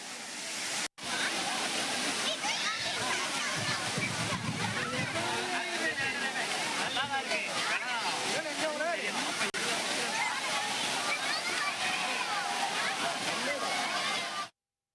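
Old Courtallam waterfall in Tenkasi district, crowded with tourists, pours in a steady, loud, broadband roar that holds for the full stretch after a brief gap near the start, with faint voices from the crowd under the rushing water.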